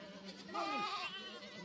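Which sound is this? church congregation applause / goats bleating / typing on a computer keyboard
goats bleating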